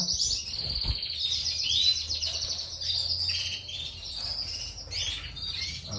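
Spanish breed canaries in a breeding stock sing with bright, warbling trills and chirps, steady and close throughout, with a brief low thump near the start and no talking.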